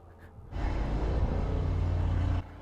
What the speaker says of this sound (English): I've just realised it's the pile driver, because it's like ultrasonic